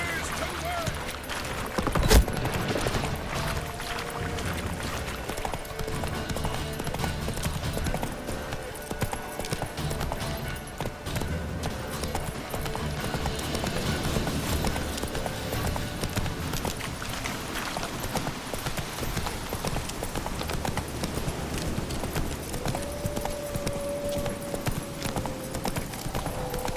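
Roach, a horse in The Witcher 3, clip-clops along at a steady pace under continuous game music and ambience, the hoofbeats close and moderately loud, with a voice speaking now and then.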